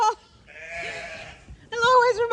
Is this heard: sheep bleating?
yes